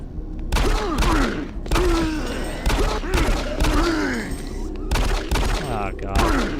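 A weak gun, about as powerful as the pistol, fires in Doom 3, with repeated bursts of shots in uneven clusters mixed with groaning and a speaking voice over the gunfire.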